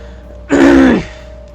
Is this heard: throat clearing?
yes